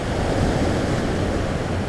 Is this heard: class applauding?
no